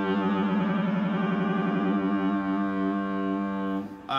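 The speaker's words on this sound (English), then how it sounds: "A roto vibe sounds like this." Three-string cigar box guitar through a rotary vibe effect, one sustained chord swirling with steady wavering pulses for about four seconds, loud and close, then cut off abruptly at the end.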